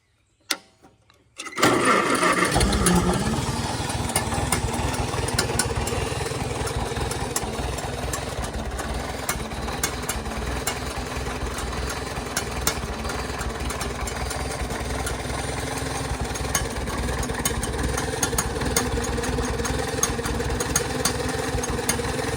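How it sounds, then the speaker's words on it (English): A 1948 Farmall Super A cultivating tractor engine cranks and catches after a brief silence, then settles into a steady, close idle with a fast rhythmic exhaust-flapper patter that runs unbroken to the end. "I like listening to the exhaust flapper on this thing. It just sits there and purrs pretty good."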